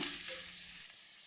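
Green chillies sautéing in a pan over a low flame for street-style egg rice: a quiet, steady hissing sizzle that runs without a break and with no voices.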